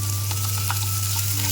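Ginger sizzling in hot oil in a pan after garlic, cooking for a Bengali sour eggplant dish; a steady close frying hiss with a few brief crackles, no voices, over a constant low hum.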